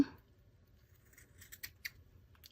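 Scissors trim the ribbon tied on a snowman craft, giving a few quick, crisp snips close up in a quiet room with no one talking.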